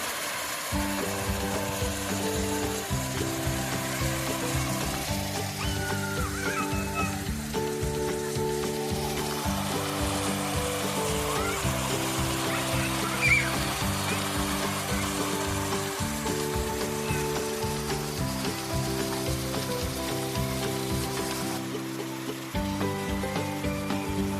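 A steady, strong rush of a rain-swollen village waterfall in Bahirole hisses continuously beneath background music.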